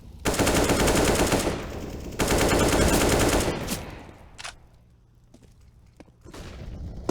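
Rapid gunfire from a Counter-Strike match crackles in two dense sustained bursts, then fades to sparser single shots and quieter game noise before another burst starts at the end.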